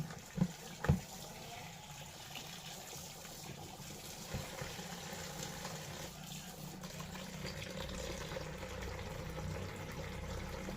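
Water runs steadily from a kitchen tap into a sink, a continuous close gush with a couple of brief knocks near the start.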